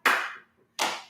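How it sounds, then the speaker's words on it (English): Two sharp hand claps, loud and close, spaced under a second apart with a short silence between, during a seated exercise session for older people. "Let's clap in the middle"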